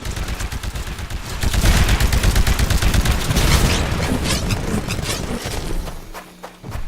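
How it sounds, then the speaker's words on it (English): Rapid automatic weapon fire in Titanfall from the Sidewinder anti-Titan weapon aimed at a Titan, a loud continuous barrage of close bursts with booming impacts, thinning out briefly near the end. "This is the Sidewinder. Sidewinder is good Destroy for the Titan with your anti-Titan weapon."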